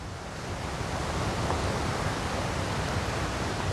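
The flooded Susquehanna River rushes past at a 25 ft crest in winter, a dense, steady roar of fast water with no pauses, loud and broadband throughout.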